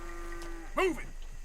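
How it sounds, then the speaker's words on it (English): A Florida Cracker cow in the video game Red Dead Redemption 2 lets out a single short moo, fairly close, over faint background ambience with a steady tone beforehand. "Florida Cracker Cow."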